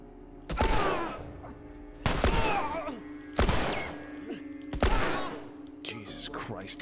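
Gunfire in The Last of Us: four loud, sharp shots fired about a second or more apart, each with a ringing tail, then a weaker fifth burst, while a person talks between them.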